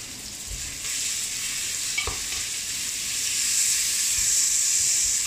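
Coarsely chopped onion sizzling in hot fat in a pot for a spicy carrot soup, a steady bright hiss throughout with occasional stirring scrapes and a brief clink near the middle.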